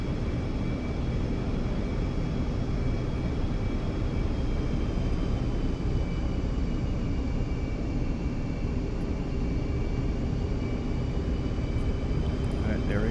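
Air Force One jet engines throttling up at an airport in the DCS flight simulator, a loud steady roar with a faint whine that holds level throughout, while a voice talks over it.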